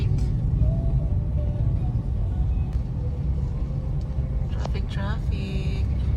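Road traffic with cars in Tarlac, Philippines: a constant low engine rumble fills the scene, with a vehicle passing near the end and voices faintly mixed in.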